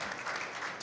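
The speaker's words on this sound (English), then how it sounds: "big round of applause, please" Audience applause at an Indo-Canada Chamber of Commerce panel event, a steady wash of clapping from a crowd that fills the whole short moment without a break.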